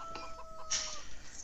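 Chickens on a farm in a farming sim video game give a brief burst of clucking, fairly close and over faint game background tones, with no talking.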